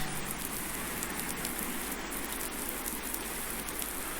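Rain falls steadily in Farming Simulator 19, a constant hissing patter with soft drops on surfaces, even in level from start to finish and with no talk over it.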